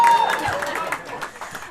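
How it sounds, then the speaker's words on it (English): Comedy club audience at a stand-up showcase in Ann Arbor breaks into cheering and scattered applause, a dense crowd wash that gradually fades over under two seconds. "It's okay, you can cheer."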